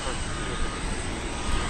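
Steady broadband roar of a UPS cargo jet departing DFW Airport bound for Louisville, a constant distant engine rumble with no distinct peaks, heard at moderate distance.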